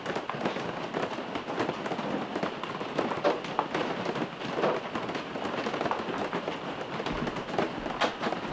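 Steady rain patters on the roof of a camper at a campground, a dense continuous drumming with scattered louder drops and no voices.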